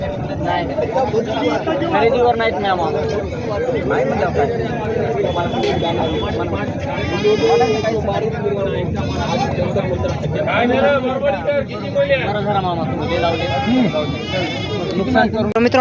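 Goats bleating at a large goat and sheep market in Maharashtra, with repeated wavering bleats from several animals, some close and loud, rising over a constant babble of people talking.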